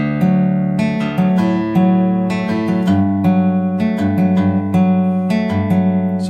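A guitar tuned to drop D plays a song intro, a busy picked pattern of ringing notes over a low droning bass, loud and close with no talking.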